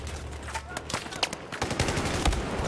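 Rapid gunfire in the video game Battlefield 1, with bursts of automatic shots and scattered heavier blasts cracking close and loud in an uneven barrage, with no pause in the shooting.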